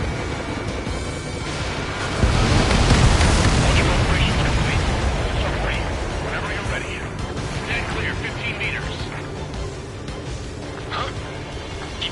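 A missile strike explosion in the flight combat game Ace Combat 7: Skies Unknown, a sudden loud blast that swells and rumbles, then decays into a long roaring wash with radio voices talking over it.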